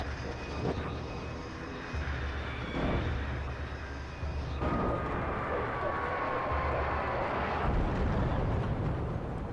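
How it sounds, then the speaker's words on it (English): A helicopter roars overhead in the Alan Wake Remastered game on PS5, a steady loud engine and rotor rumble that swells and holds, with no voices over it. "Escape the chopper."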